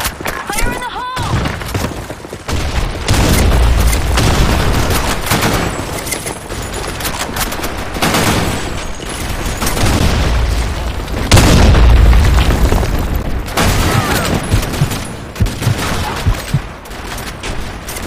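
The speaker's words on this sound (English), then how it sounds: "Fire in the hole. Grenade." Grenades explode and rifles fire in a Counter-Strike match on the Sand Storm II map. Heavy booms and dense bursts of gunfire come loud and close for the whole stretch, with game voice lines mixed in among the blasts.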